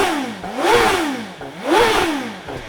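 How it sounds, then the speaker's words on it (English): A BMW M1000XR motorcycle engine is revved twice in quick succession, each rev climbing sharply then falling back toward idle, loud and close. "the whole bike moves as you rev it"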